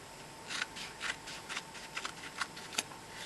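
Scissors snipping through biplast tape for foot taping, a quiet run of short crisp cuts in an irregular rhythm, close by and alone.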